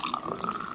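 Tempt No.9 cider pours from a small can into a mustard glass, a brief splashing, fizzy trickle heard close up with no talk.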